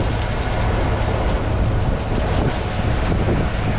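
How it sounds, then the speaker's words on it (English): Wind gusts rumbling and buffeting outdoors beside a brisket being prepared for smoking, a dense, continuous roar with no clear breaks, loud and close. "It's kind of windy out here"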